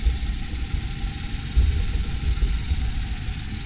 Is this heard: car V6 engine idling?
yes